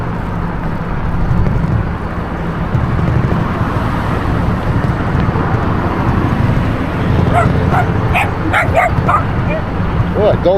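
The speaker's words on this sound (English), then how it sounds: "that dog wanted to attack us there. Tiny little dog like that." A small dog yaps and barks at a passing e-bike in a bicycle lane, its bursts heard near but partly buried under steady road and wind rumble.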